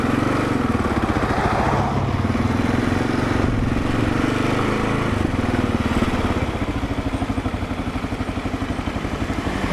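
A 2022 Kawasaki KLR 650 motorcycle engine drones steadily while riding, with a loud, close, continuous low thumping rumble and wind noise that eases slightly toward the end.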